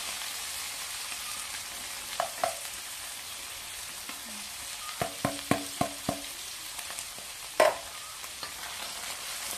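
Canned mushrooms go into a hot pan, giving a steady low sizzle of frying under scattered soft clicks and taps of a utensil stirring, one sharper clack standing out, no voices.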